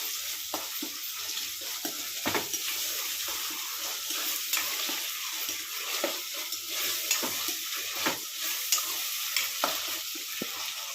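Ginger garlic paste sizzles steadily in a hot pan for a Telugu stuffed brinjal curry, with a continuous bright frying hiss and occasional scraping stirs, close and alone.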